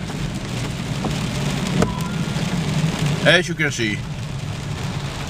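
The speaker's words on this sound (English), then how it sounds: "Also it's raining, quite a bit actually," Heavy rain falls steadily around a car on local roads during a morning drive, a constant broadband wash under a voice, with a brief vehicle swish passing midway.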